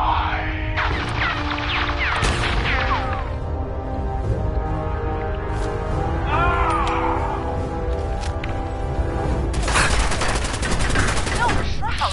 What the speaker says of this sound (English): Silver Shroud, the bullets! They bounced, ricocheted right off your raiment